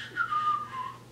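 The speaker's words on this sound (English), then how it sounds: "it's super fun because I'm like whistling" One person whistles a brief, clear note that slides gently downward and wavers slightly, close and alone, lasting about a second.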